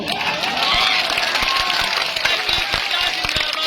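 A crowd at a political rally on a village high school ground claps in scattered, uneven bursts over a steady hubbub of voices. Sharp individual claps stand out near the middle and end.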